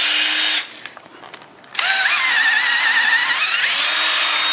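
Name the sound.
power drill reaming holes in a wooden table leg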